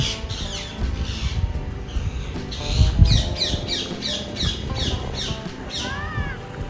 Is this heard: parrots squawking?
yes